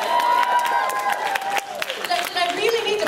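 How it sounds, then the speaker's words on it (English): Applause and cheering from a fan convention crowd sound under loud talk and whooping voices, clapping scattered through the clip. "Did I really need to prompt that applause?"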